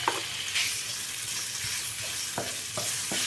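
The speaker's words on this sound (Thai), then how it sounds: "นี่ครับหมูของเราหั่นเอาไว้ ใส่ไปเลยครับ" Cut pork pieces sizzle in a hot frying pan as meat for a mixed-vegetable tomato spaghetti, a steady close hiss broken by a few sharp clicks and scrapes of stirring.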